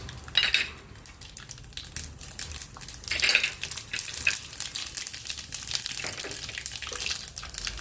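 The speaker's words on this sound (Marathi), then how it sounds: "आता तेल चांगलं तापलेलं आहे तर मी फोडणीचं साहित्य याच्यामध्ये घालून घेते" Tempering spices drop into well-heated oil for a fenugreek leaf (methi) dish, setting off a close, crackling sizzle with sharp spits and a few utensil clinks, swelling around the start and again midway.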